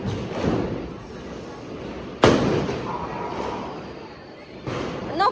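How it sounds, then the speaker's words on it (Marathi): Diwali firecrackers go off outdoors: one sharp, loud bang, then a second, fainter crack a couple of seconds later, both amid background chatter and people talking. "फटाके वाजव फटाके."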